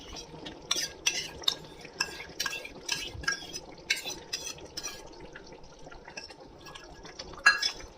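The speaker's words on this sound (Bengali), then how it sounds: "এটাকে খুব ভালো করে মিক্স করে নেব" A spoon scrapes and stirs yogurt into a mushroom and pea curry with cashews in a pan, with soft clinks and wet mixing sounds coming in irregular strokes, close and moderate.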